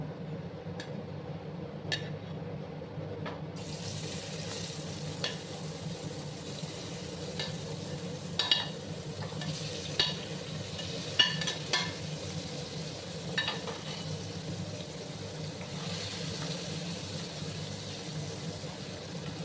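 Paneer cubes sizzle and fry in hot oil in a pan, a steady soft crackle with occasional light clinks and stirring scrapes, quiet and close, with no talk.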